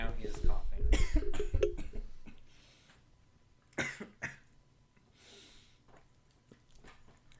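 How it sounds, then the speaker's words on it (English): A burst of close, harsh coughing, followed after a pause by two more separate coughs and quieter throat sounds. "And now he is coughing."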